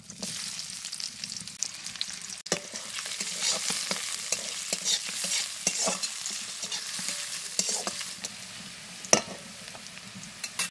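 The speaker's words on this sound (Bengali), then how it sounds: "পেঁয়াজ দিচ্ছি" Onions sizzling in hot oil in a pan while being stirred, a steady crackling fry with scraping stir strokes throughout and no talking.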